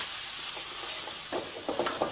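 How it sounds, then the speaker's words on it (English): Green and red peppers with snow peas frying in a hot pan, a continuous loud sizzle with a few stirring clatters near the end, no talk. "Let's give those a nice fry."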